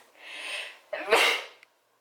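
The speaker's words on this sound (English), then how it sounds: "I have to sneeze" A single loud sneeze: a sharp inhaled build-up followed by an explosive burst, close to the listener, with no talking around it.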